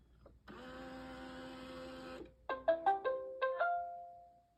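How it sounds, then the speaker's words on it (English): An iRobot Roomba i6 robot vacuum with a jammed wheel gives off a steady motor whir for a couple of seconds, then a quick series of short rising electronic chirps, all quiet and alone. "a common way of knowing when your wheel is jammed is if the Roomba continuously rotates and it just is unable to get back to its base"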